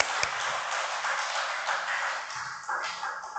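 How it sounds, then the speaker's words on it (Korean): A church seminar audience applauds with steady, dense clapping throughout. A brief ping sounds near the start. "축복하고 박수 한번 부탁드리겠습니다"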